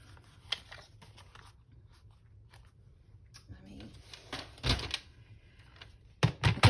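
Scissors cut through paper while making junk-journal ephemera, giving several soft, close snips and crunches at a quiet level, louder toward the end.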